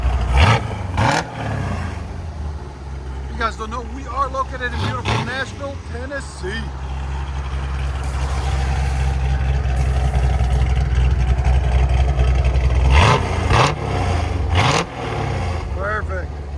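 A 1969 Chevy Corvette V8 with headers and a Borla Atak exhaust idles with a steady deep rumble, then blips the throttle in short revs near the start and again near the end, with people talking over it.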